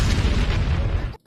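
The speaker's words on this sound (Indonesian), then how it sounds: "Terlihat ketika senjatanya dilemparkan, ia langsung menyebabkan sebuah ledakan besar." A large explosion from a thrown weapon in an animated fantasy battle: a loud, sustained deep boom with rumbling debris lasting about a second, then cutting off abruptly to near silence.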